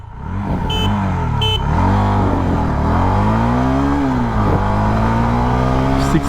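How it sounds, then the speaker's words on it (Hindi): A motorcycle pulls away hard from first gear in an acceleration test, its close, loud engine note climbing in pitch with a couple of brief dips at gear changes. "यहाँ पर इसकी जो एक्सेलरेशन है उसको टेस्ट करते हैं"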